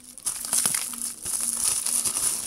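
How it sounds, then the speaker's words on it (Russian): Plastic package wrapping crinkles and rustles loudly up close as it is opened, in two dense bursts of crackling with a brief pause between. "открываем следующий пакет."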